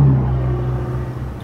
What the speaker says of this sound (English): So one of the things I noticed while I'm driving the car is there's a lot of road noise.